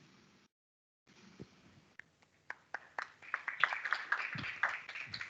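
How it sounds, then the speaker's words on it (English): Scattered claps at a virtual green infrastructure and climate action webinar start sparse and build into light applause for the speakers, fairly faint and somewhat distant. "a round of applause to all our speakers"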